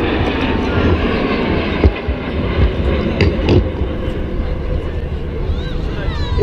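Military jets flying in formation at the Radom air show, a steady loud roar of engines throughout with a faint rising whine near the end, while a voice talks over it.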